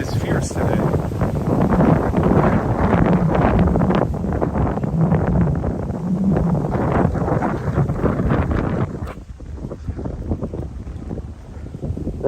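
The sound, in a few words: strong wind blowing at Copenhagen harbor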